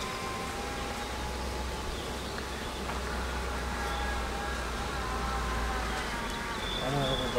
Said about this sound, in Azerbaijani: burada spesiyal arılar oturub, qanadlarını tərpədirlər, ventilasiya aparırlar, sərinlik yaratmaq üçün